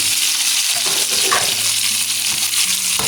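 Onion, tomato, ginger and garlic sautéing in a pan for paksiw, a loud steady sizzle with a few scrapes and stirring clinks, close and continuous with no talking.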